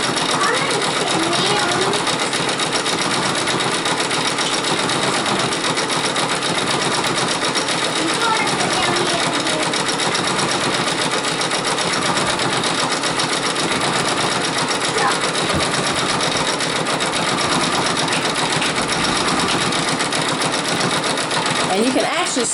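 A Brother Persona PRS 100 embroidery machine stitches a monogram on boots held in a fast frame, running at 800 stitches per minute as a steady, loud, rapid mechanical whir and chatter that continues unbroken throughout.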